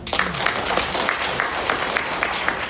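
A hall crowd applauds, dense and sustained, with many hands clapping together at close range and no pause in the sound.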